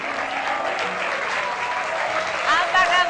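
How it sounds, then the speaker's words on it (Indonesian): An audience at a business award event applauds a winner with dense, steady clapping that lasts throughout and swells a little louder near the end. "mohon tepuk tangan untuk Bapak Heru Kuncoro."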